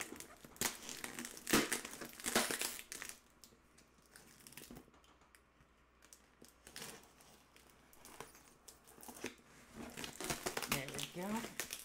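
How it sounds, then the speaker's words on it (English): A cardboard gift box cut open with a blade, close crinkling, scraping and tearing bursts that come and go over several seconds, quiet and near. "So I'm going to carefully cut the box open."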